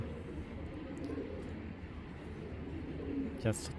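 Racing pigeons, club-bred long-distance racers, coo in a low, steady murmur throughout, with a continuous hum of background noise and a brief sharper sound near the end.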